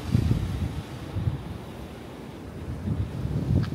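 Surf breaks on a beach at Bolinao, Pangasinan, facing the West Philippine Sea, with a low rumble of waves and steady wind buffeting the microphone. Swells rise near the start and again toward the end.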